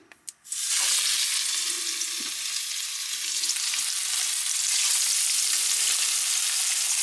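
Salmon laid seasoning side down into a hot skillet with avocado oil, a couple of soft clunks then a sudden loud sizzle that holds steady and close throughout.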